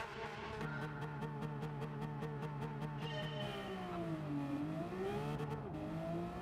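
Porsche race cars in Gran Turismo 7 keep up a steady engine drone with rising and falling revs, and a clear pitch dip and climb through a corner. The engines are fairly quiet and continuous, with no talk over them.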